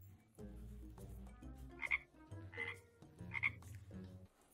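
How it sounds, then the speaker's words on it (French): A toad croaks in several short, rhythmic bursts about a second apart over a low tonal background, fairly close and with no talking. "Maman, c'est un vrai crapaud !"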